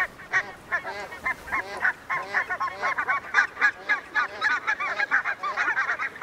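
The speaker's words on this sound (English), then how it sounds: "I see hundreds of flocks of barnacle geese." A large flock of barnacle geese honks continuously, many overlapping calls in a dense, busy chorus at moderate distance with no pauses.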